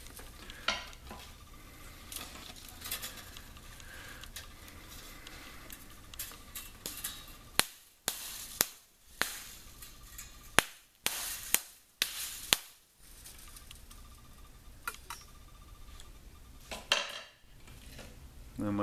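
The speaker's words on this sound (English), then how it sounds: "So I'm gonna go ahead and pound that back in with my pounder." A pounder strikes aluminum wires on a handmade aluminum tree trunk, a quick run of sharp knocks close by after a stretch of soft rustling and handling, with a few more taps toward the end.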